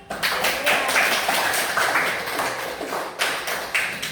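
Students applaud in a classroom, a steady patter of hand claps filling most of the moment, with a few sharper accented claps standing out near the end.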